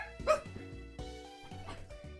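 A small dog barks a few times in short, sharp bursts, fairly close, with brief pauses between the yaps.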